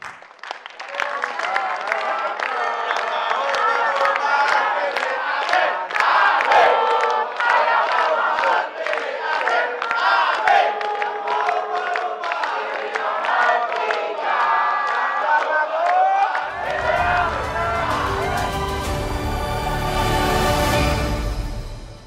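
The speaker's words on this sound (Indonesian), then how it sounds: "Tepuk tangan untuk Prof. Mahfud." Studio audience at an Indonesian election talk show applauding and cheering, a loud sustained mix of clapping, whoops and shouts from a crowd, followed near the end by a swell of music that takes over.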